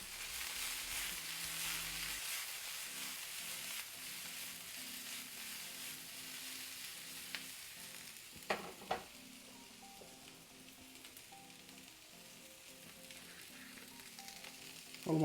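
Vegetables frying in a pan with peanut oil, a steady close sizzle and crackle that holds throughout, with a couple of soft knocks and stirring sounds partway through.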